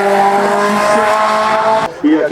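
A Formula 1 class D7 race car at the La Pommeraye hill climb in France screams past loud and high-pitched, its engine note cutting off abruptly near the end, while an announcer talks over it.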